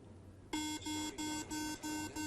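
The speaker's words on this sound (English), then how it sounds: "Then it beeps like crazy because you're far away from the desert." A navigation phone app for a blind runner beeps in rapid repeated pulses, about five bright electronic tones in quick succession, close and clear after a brief quiet start, signalling the runner is off track.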